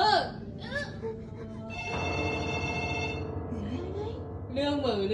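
A telephone rings with a steady electronic bell tone for about two seconds in a hotel room, with people talking before and after, their voices partly overlapping the ring.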